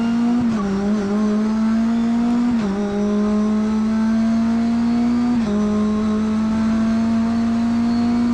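A race car powers out of corners at the Magny-Cours circuit, its engine note loud and close from onboard, with a steady high whine that rises in pitch through each gear and dips briefly at three shifts.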